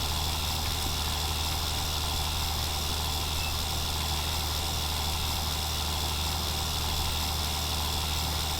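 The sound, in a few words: John Deere tractor engine running in video game Farming Simulator 19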